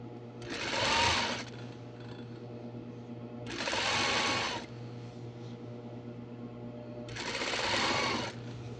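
A sewing machine stitches a garment sleeve in three bursts of steady whirring, each lasting about a second, with pauses between them and a low hum running throughout.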